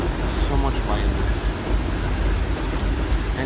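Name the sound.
heavy rain and loud thunder in NYC thunderstorm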